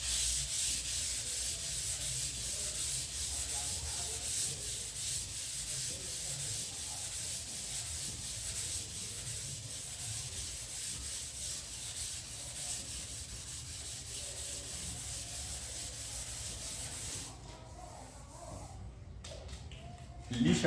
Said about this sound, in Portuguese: vamos fazer o lixamento desse primer aqui, que é o primer PU.